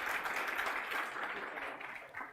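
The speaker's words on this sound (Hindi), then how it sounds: "गुरुजी के बदले में तो जोरदार तालियां बजा दीजिएगा एक बार।" Students at a coaching class celebrating a teacher's new baby daughter clap together in a steady, dense burst of applause that holds at an even level for a couple of seconds and swells briefly again at the end.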